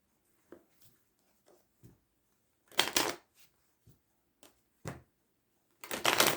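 A deck of playing cards being shuffled at close range during a tarot-style card reading, with soft scattered riffles and taps followed by two louder bursts of cards flicking together, quiet between them.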